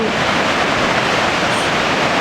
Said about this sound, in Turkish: gürültüsüyle kulaklarımızı çınlatan ve neşelendiren Kapuzbaşı Şelalesi'ni görüyoruz.